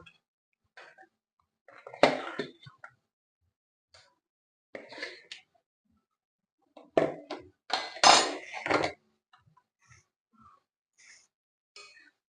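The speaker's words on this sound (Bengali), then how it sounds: "এবার আমি ভেজে রাখা আলুগুলো দিয়ে দেবো" Fried potatoes drop into a pan of cooked-down masala for a boal fish oil-jhal, heard as a few scattered bursts of clinks and clattering pan knocks separated by near silence.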